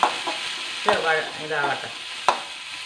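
Onions sautéing and being stirred in a pan, a steady close sizzle with a few sharp scraping stirs and brief clatters over it, no talk.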